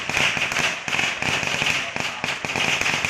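Firecrackers exploding at a Thai temple, a dense rapid crackle of sharp bangs running continuously throughout, loud and close with no talk.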